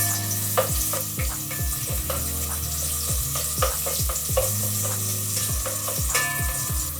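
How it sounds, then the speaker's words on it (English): Shrimp and squid for a spicy stir-fry browning in very hot oil, a loud continuous sizzle with rhythmic scraping stirs and bursts of spattering, close up with no talk. "our oil is very hot. So we fry this till it's a bit brown"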